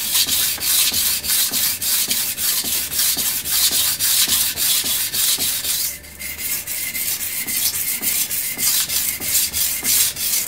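Knife blade rubbed back and forth on a coarse 180 grit Suehiro Debado whetstone, steady rhythmic gritty scraping strokes, close and loud, with a brief pause around the middle.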